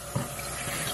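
Steady running water from a tap as a child is rinsed, a continuous close rush with a small splash near the start and no talking.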